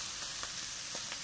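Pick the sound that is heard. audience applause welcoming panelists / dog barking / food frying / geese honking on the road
food frying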